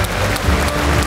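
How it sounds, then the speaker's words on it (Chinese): A crowd applauds three temple representatives at a large indoor ceremony in a Taipei arena, a dense, continuous wash of clapping that is close, loud and brief. "掌声给三个道场热烈掌声鼓励"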